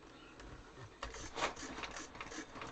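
A sewing machine stitches quilt pieces, a faint, close mechanical whir with a few short bursts of stitching, no talk.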